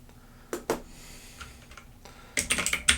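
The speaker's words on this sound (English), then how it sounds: "So that is the Bluetooth keyboard in action." Keys tapped on a Bluetooth keyboard paired with a Ruertu E Ink notetaker: a few isolated clicks early, then a quick cluster of light, close keystrokes near the end over a quiet room.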